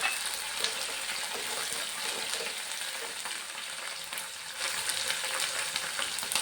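Green chillies and garlic fry in hot oil for gooseberry pickle, giving a dense, steady, close sizzle with faint crackles that holds without a break throughout.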